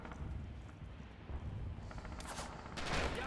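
Machine gun fire in the World War II shooter Red Orchestra, with quick bursts of rattling shots over dense battle noise, somewhat distant and muffled.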